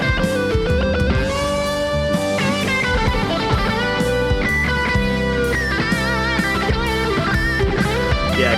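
A sustained Silver Sky electric guitar solo with expressive vibrato on held notes and audible pick attack, bending and singing over a full band backing, loud and continuous.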